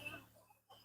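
Andijan black chickens give a short, faint burst of clucking, a brief hen call over a low background hum.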